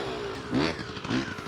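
A motocross motorcycle pulls off the starting gate on the clutch, its engine revving up twice in quick rising bursts, close and fairly loud.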